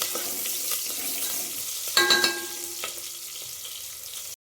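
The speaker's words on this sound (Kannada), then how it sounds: "ಇದು ಗೋಲ್ಡನ್ ಬ್ರೌನ್ ಕಲರ್ ಬರೋವರೆಗೂ ಚೆನ್ನಾಗಿ ಫ್ರೈ ಮಾಡ್ಕೋಬೇಕು." Masala for menthya bath fries in a pan toward golden brown: a steady crackling sizzle with a few sharper stirring scrapes, close and unbroken, no voices.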